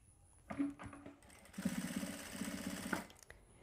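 A sewing machine stitches along a folded side seam of an embroidered kameez in two short bursts of rapid mechanical rattling, close and clear with no talking.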